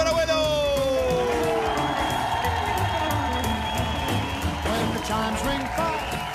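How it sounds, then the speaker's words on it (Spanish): A television singing-competition audience applauds and cheers for a masked contestant called Abuelo, a loud sustained wash of clapping and crowd noise with music and voices layered on top. "¡El aplauso para Abuelo!"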